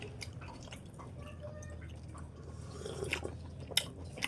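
Quiet close-up chewing of crunchy food, with soft irregular crunches and wet mouth sounds over several seconds and no talking.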